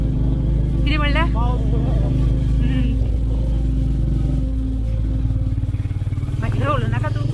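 Royal Enfield Meteor motorcycle riding along a narrow, muddy, badly broken road, its steady engine drone loud and close throughout, with voices talking over it.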